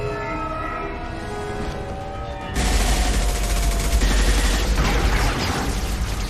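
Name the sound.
gunfire in the video game Mass Effect 2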